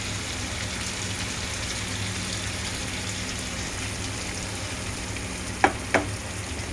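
Pepper fish, topped with crushed fennel, black pepper and dried chili, sizzles in a pan with a steady, soft crackling hiss, broken near the end by two sharp clinks of utensil against pan.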